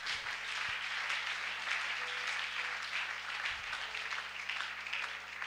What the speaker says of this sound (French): Acclame le Seigneur, acclame.